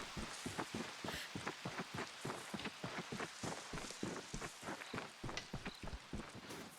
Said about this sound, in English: Now it stops raining, of course.